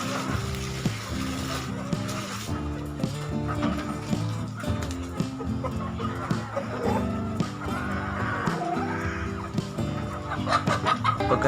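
Pet chickens cluck steadily and repeatedly while being fed mixed feed, a near, busy flock with overlapping calls and a steady background tone throughout.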